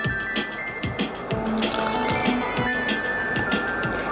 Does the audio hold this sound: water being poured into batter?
yes